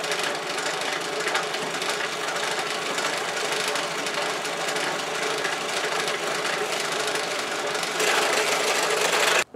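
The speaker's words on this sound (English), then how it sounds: "Right, so that's the hole drilled." A hole is drilled in steel while making a seax knife, a steady loud grinding whir running unbroken for about ten seconds, growing slightly harsher near the end before cutting off.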